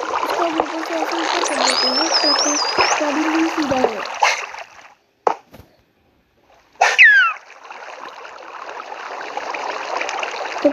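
Water flowing and leaking in Minecraft, a steady broadband rush that drops out briefly midway, then returns with a splashy burst and carries on evenly.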